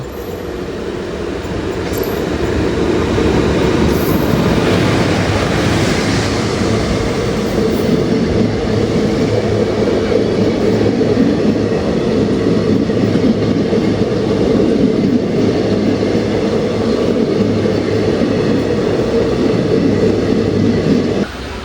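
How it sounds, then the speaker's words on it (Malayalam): The Mangalore Central–Kozhikode Express rolls in loud and close, a sustained rumble of wheels and carriages with a steady low hum that continues throughout without any talk. "മംഗലാപുരം സെൻട്രൽ കോഴിക്കോട് എക്സ്പ്രസ് ആണ് വരുന്നത്."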